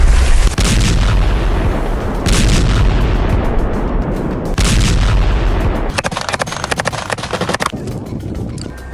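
Heavy blasts from bombs set to destroy Hamas tunnels, rolling booms repeating every couple of seconds, loud and close, followed by a sharper crackle of rapid detonations.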